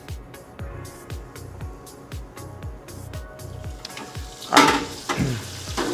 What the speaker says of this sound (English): And we'll do another one. All right, and then into the fryer we go.